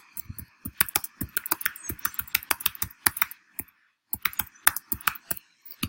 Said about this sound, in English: So now I can begin to type.